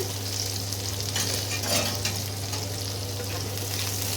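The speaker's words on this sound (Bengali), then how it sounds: "এবারে আমি তেলটা গরম হচ্ছে, এর মধ্যে রসুনের কুচি দেব" Chopped garlic frying in a little hot oil in a pan, a steady, even sizzle with faint stirring, close and unbroken throughout with no talking.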